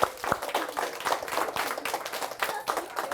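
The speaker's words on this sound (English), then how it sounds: "Y'all give Miss Gossett a round of applause." Audience applause for teacher Miss Gossett at a Fox 54 Top Teachers award presentation, with steady, dense clapping from a nearby group running throughout, with some brief louder bursts.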